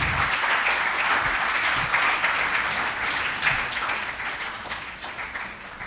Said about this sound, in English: Can we have a very large round of applause for them